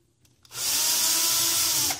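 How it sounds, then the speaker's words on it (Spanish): A battery-powered electric screwdriver whirs in a single short, steady burst lasting about a second and a half, close and fairly loud, starting abruptly and then winding down. "Es un desarmador eléctrico que usa baterías"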